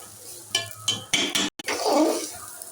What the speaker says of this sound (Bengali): চালটা একটু নাড়াচাড়া করে নেব, একটু ভেজে নিয়ে